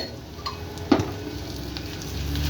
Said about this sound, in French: je vais mettre une cuillère bien remplie de tomates concentrées